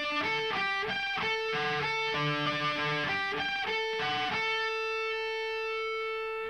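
Distorted electric guitar playing a riff, a quick run of picked single notes in a steady rhythm, close and clear, ending on a sustained ringing note.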